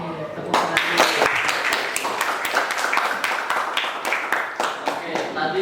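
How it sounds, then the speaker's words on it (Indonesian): A school class of students breaks into applause, many hands clapping loudly and unevenly for several seconds, with scattered voices mixed in. "Oke, tepuk tangan dulu."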